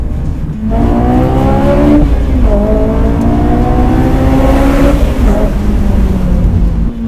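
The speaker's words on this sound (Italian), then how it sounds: "Quando ti avvicini in zona rossa sembra una moto." A Honda S2000's high-revving naturally aspirated engine climbs toward its 9000 rpm redline in two loud, close pulls, each rising pitch sweep cut briefly before winding up again with a sharp, motorcycle-like wail.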